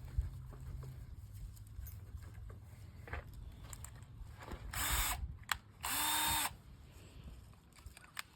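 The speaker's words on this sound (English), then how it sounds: "right now he's just drilling the holes so he can make that" A power drill boring bolt holes for a third bolt pattern on a craft trailer, heard as two loud whining bursts, one short and one longer, over a low steady background rumble.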